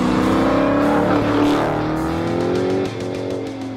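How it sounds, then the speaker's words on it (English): A car engine revs hard and loud, a sustained rising and falling roar that eases slightly near the end, with no talking over it. "You hear those car sounds?"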